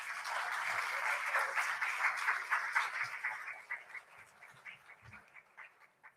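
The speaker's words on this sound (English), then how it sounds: "Another round of applause, please." Audience applause at a poetry performance event, a dense patter of clapping that starts full and steadily thins and fades toward the end.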